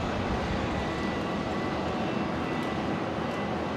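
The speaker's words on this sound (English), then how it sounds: "Qantas 134 coming in from Christchurch, the 737-800." A Qantas Boeing 737-800 in from Christchurch on final approach produces a continuous, fairly loud jet rumble and hiss, steady for the whole stretch with no voices.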